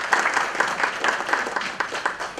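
Audience applause fills a literary event in Jaipur, dense steady clapping from a crowd with no voices over it, holding fairly even for a couple of seconds.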